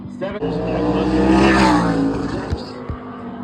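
A race car on a track runs a timed lap, its engine roaring close and loud as it passes, with tonal revving that swells and fades and a commentator talking over it.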